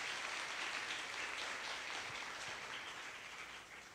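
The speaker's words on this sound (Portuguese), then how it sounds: "Possamos aplaudir a palavra do Senhor" A church congregation applauds the word of the Lord in a dense, even roar of clapping that fades slightly toward the end.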